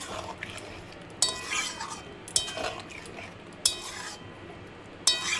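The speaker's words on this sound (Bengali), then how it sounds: "লাস্টে দিয়ে একটু নাড়িয়ে চাড়িয়ে দেবো" A spoon scrapes and clinks against a metal pot while bottle gourd curry with added sugar is stirred, with four sharp knocks at a slow, uneven pace over a soft background.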